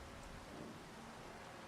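Rain falls steadily in Farming Simulator 25, an even, quiet broadband wash of droplets with a low rumbling undertone and no distinct individual impacts.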